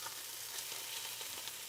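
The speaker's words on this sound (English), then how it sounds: "when you put it in your pot, you definitely wanna hear it sizzle" Steady, fairly quiet sizzle of pork belly searing in a hot pot, a continuous crackling hiss with small pops throughout, no voices.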